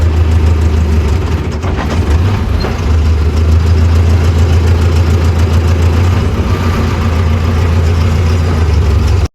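A Mahindra Novo 605 tractor pulling a fully loaded trolley rumbles steadily in reverse, its diesel engine close and loud at an even pitch, cutting off abruptly at the end.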